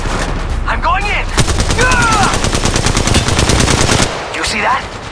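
Rapid automatic gunfire in Apex Legends Mobile, a long loud burst of evenly spaced shots rattling for several seconds, with short shorter bursts and whooshing effects before and after.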